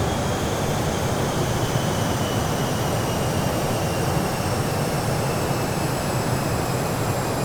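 Douglas DC-8 jet engines being throttled back toward idle in a flight simulator, a steady, loud, broadband roar with thin high whines that holds unchanged throughout, with no speech.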